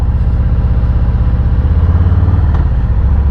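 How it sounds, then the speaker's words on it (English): A motorcycle engine with stock exhaust runs steadily at idle, loud and close, with a deep, bassy, even throb that never changes pace. "bassy sound of the motor. Stock exhaust and all."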